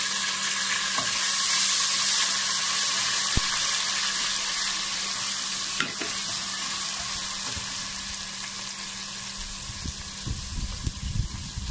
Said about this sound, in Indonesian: ni saya letak alia kisar dengan bawang putih kisar ya